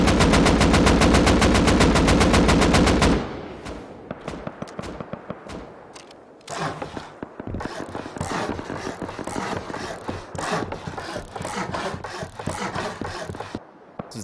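A loud, sustained burst of AK automatic fire with a muzzle brake in the survival game Rust, followed by several more rapid sprays broken by brief pauses, each one harsh, sharp and close.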